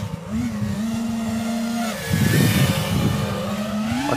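FPV quadcopter motors running on Betaflight 4 with the RPM filter, a high, clean whine that holds steady, then surges louder with rising pitch as the throttle increases.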